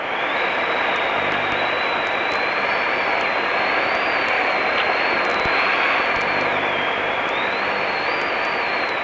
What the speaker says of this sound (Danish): Så skal der flyves flyvemaskinen nu.